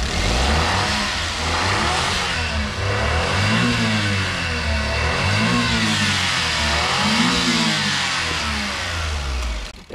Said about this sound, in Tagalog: napaka ganda ng compression ng ating makina